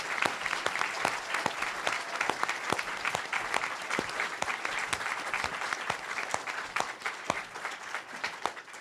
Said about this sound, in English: Jonathan Simon, who really deserves a big round of applause